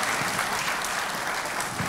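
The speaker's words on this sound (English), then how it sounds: "Let's give her a big round of applause." A crowd at a youth violence community forum applauds a panel guest, a steady, dense wash of clapping that stays even and full throughout.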